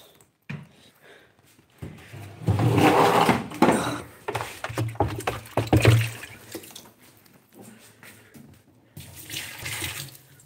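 Water pours and splashes in uneven bursts, heaviest in the middle, then trickles and gurgles before another short pour near the end.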